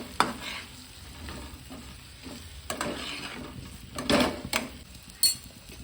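A spoon scrapes and stirs ground masala paste into a stuffed brinjal curry in a pan. Quiet sizzling runs underneath, with sharp clinks and scrapes of utensil against metal now and then.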